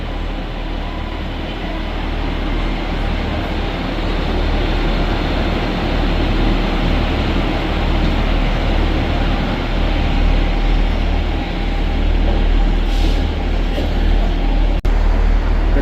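A train bound for Liverpool Lime Street, running as 1M75 from Glasgow Central, passes at Carlisle with a steady, loud rumble and rolling wheel noise that holds throughout, ending in a sharp click.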